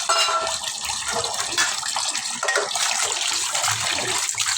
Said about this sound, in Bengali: সেজন্য মাছগুলো আগে ধুয়ে নিচ্ছি